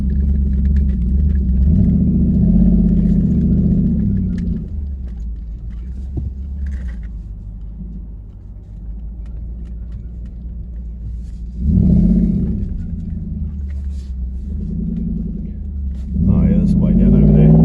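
A turbocharged Nissan Patrol with a TB48 engine drives in all-wheel drive over hard-packed sand dunes at Wedge Island. Its deep engine rumble steadily fills the cabin, surging louder in a few pushes, while someone talks over it.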